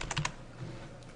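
Keys clatter on a computer keyboard while text is entered into a text editor, a quick burst of several close taps followed by a lighter tap or two, alone.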